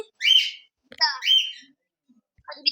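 A voice imitates a cockatiel parrot with three short, high, warbling whistles separated by brief silences, close and fairly loud.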